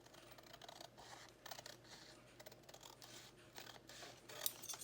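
Scissors gently trim paper for a napkin journal card, making soft, close snipping and rustling in a quiet room with brief pauses between cuts.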